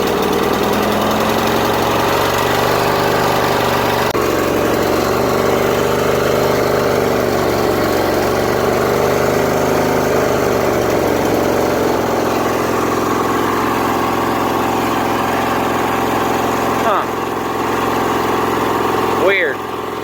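A Craftsman lawn tractor engine runs loud and close with the choke wide open, a steady throbbing idle that wavers in pitch before the engine chokes itself out and dies at the end.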